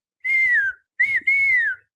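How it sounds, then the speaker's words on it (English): Seraphite whistling in The Last of Us, two clear melodic whistle calls with a short gap between them, the second call broken into two parts, loud and close with no talk. "the scary whistling"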